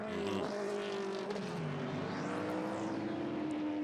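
A race car, the number 31 machine, runs in the 2015 Twelve Hours of Sebring. Its engine whines loud and close, with a brief pitch sweep as the car passes, and no talk is heard over it.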